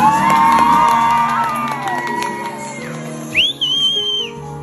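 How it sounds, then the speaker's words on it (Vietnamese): A crowd at a marriage proposal cheers and whoops, and sharp whistles rise above it, with music playing beneath; the noise fades before a final bright whistle. "Trong tiếng hò reo của mọi người"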